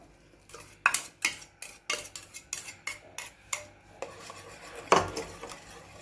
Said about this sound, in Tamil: ஊற்றி நல்லா கலக்கிடலாங்க